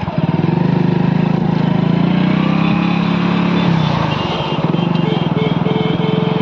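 A motorcycle engine runs steadily and loud up close, a constant low rumble with a brief dip in revs before it settles back into its chugging drone.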